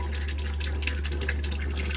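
Motorhome tap on an Auto-Trail V-Line 635 spluttering as water returns after the boiler was drained, an irregular hiss of bursts and gurgles over a steady low hum.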